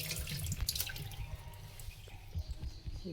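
Drumstick leaves being rinsed in water while cooking a sambar, giving steady splashing and trickling water sounds close by, with no talk.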